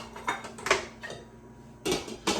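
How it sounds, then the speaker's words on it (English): Washed clams drop into a metal cooking pot in a few separate bursts of clattering shell-on-metal knocks, close and fairly quiet, with brief pauses between them. "You're gonna get slightly different amounts of clam, but we're gonna drop them in here"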